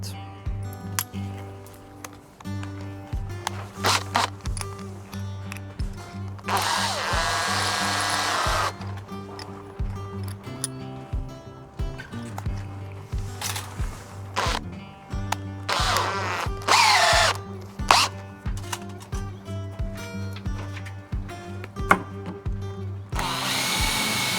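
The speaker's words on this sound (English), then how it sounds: "Now I need a smaller drill." An electric drill whirs in several short bursts, spinning up and boring into timber on a wooden yacht transom, with quieter handling noises and pauses between runs.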